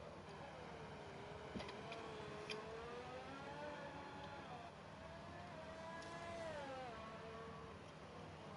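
Racing cars lapping a track in the F1 2018 video game at the Singapore circuit, engine tones rising and falling steadily throughout with no talk.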